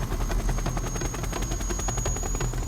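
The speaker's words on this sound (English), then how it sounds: "There was no other way in except a Black Hawk helicopter." A Black Hawk military helicopter flies overhead, its rotor beating in a steady rapid chop over a constant turbine whine, loud and continuous throughout, with no voices.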